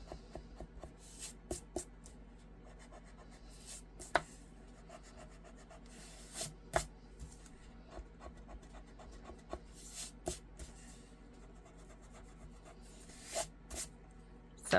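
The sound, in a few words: erasing pencil score line marks on card stock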